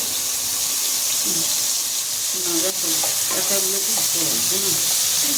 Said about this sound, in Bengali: কাঁকড়াগুলো আমি একটু ভেজে নিচ্ছি, হালকা করে একটু ভেজে নিচ্ছি